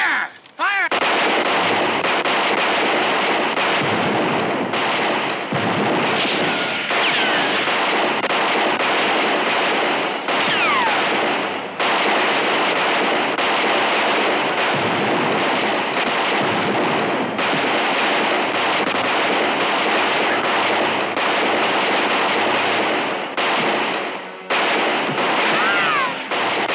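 A loud, sustained volley of gunfire in an Old West shootout, with dense overlapping pistol and rifle shots roaring almost without pause and only brief gaps.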